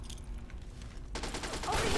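Grenade blasts in the video game Fallout 3 burst into a loud, sustained crackle of explosions and gunfire that swells to a peak and stays dense until the end.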